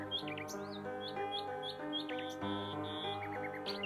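Cartoon songbirds chirp and tweet in quick repeated bursts in an animated fairy-tale scene, set over a bright sustained musical backing that continues throughout.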